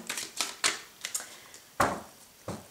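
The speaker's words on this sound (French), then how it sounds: "je vais faire une coupe quand même" Tarot cards being cut and shuffled by hand, a handful of quick crisp flicks and taps, close and quiet with short gaps.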